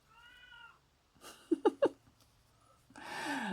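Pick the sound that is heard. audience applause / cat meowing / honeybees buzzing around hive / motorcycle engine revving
cat meowing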